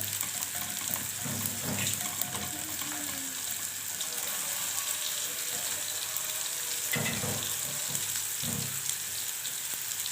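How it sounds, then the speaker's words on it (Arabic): Fish sizzles in hot oil in a pan with a steady frying hiss, and a few brief louder bursts suggest pieces being moved or added. "السمك بتاعنا كده في الزيت."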